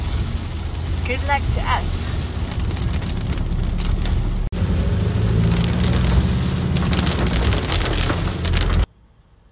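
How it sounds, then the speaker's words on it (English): Heavy rain pours steadily and loudly throughout, with a person speaking briefly over the downpour before it cuts off near the end. "A bit wet. It's pouring currently."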